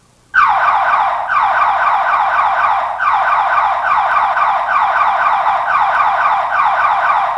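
A Code Alarm car security system's personal protection alarm sounds its siren remotely: after a brief silence it starts abruptly and loudly, sweeping in a rapid, repeating warble that continues unbroken to the end.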